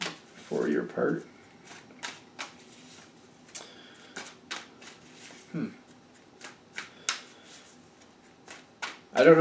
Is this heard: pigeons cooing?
no